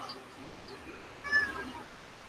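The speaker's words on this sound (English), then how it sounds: "Oh my gosh, this cat is just having so much trouble." A cat gives one short, faint meow in the middle of a quiet room, with only low background hiss around it.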